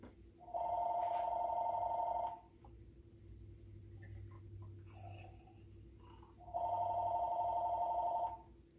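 Two long bursts of a telephone bell ringing indoors in a home kitchen, each about two seconds, separated by a quiet gap with faint rustling, fairly loud and clear with no talk.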